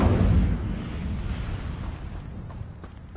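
An Incendio fire spell bursting in Hogwarts Legacy, a heavy low roaring whoosh that is strongest at the start and then settles into a steady crackling rumble, close and alone.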